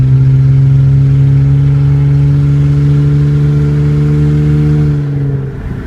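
Hyundai Sonata with a muffler delete accelerating at partial throttle, a loud, close, steady exhaust drone whose pitch climbs slowly before easing off near the end; no talking.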